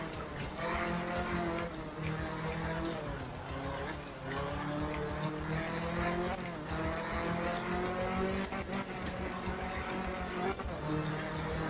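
A 1968-style Group 2 rally car in a racing video game revs hard and continuously, its engine note rising and dropping through gear changes, with tire squeal on the turns and no pauses.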